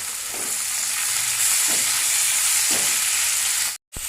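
Tomatoes and green chillies frying in oil in a pan for a Kerala dried stingray curry, a steady close sizzle with a few soft stir strokes, cutting off abruptly near the end.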